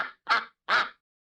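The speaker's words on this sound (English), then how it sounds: "What sound does the duck make?" A duck gives three short nasal quacks, close and clear, evenly spaced, the last two louder, followed by silence.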